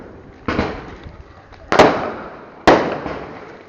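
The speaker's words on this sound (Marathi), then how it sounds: "आता फटाके फोडणार." Three sharp Diwali firecracker bangs go off close by, each a loud crack trailing into a brief decaying rumble, spaced about a second apart.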